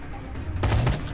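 A burst of rapid gunfire from the Sniper Ghost Warrior 2 video game, fired through a damaged aircraft canopy, erupts after a short quiet rumble and rattles loudly and closely to the end.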